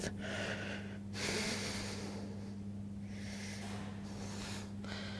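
Slow, deep breaths during a barbell Zercher squat stretch, long airy inhales and exhales close to the microphone, separated by short pauses over a steady low electrical hum.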